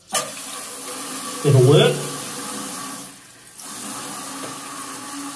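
Water refilling a Caroma dual flush toilet cistern, a steady hissing rush that runs throughout at moderate loudness, with a brief louder surge early on and a short spoken remark over it.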